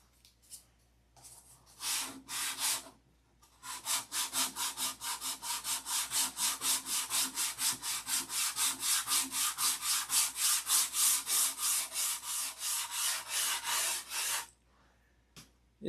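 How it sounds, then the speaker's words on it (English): Rhythmic back-and-forth sanding strokes of a color sand, rapid and steady, rasping against a surface after a few hesitant starts, then stopping abruptly. "Sanding and sanding and sanding and sanding and sanding and sanding."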